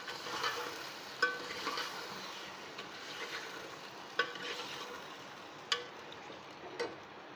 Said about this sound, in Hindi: इसको हम अच्छी तरीके से प्याज में और अदरक लहसुन में भून लेंगे।